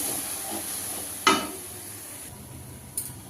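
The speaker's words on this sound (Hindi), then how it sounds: "अब डालकर प्याज के साथ अच्छे से चला लेते हैं।" Masala paste and onions stir-fried in a frying pan for dhaba-style bhindi: a low, soft sizzle with one sharp spoon scrape partway through and a faint clink near the end.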